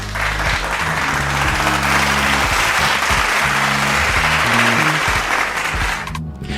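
Loud, dense audience applause for a Nigerian rapper fills the space steadily for about six seconds over a low musical backing, then cuts off abruptly at the end.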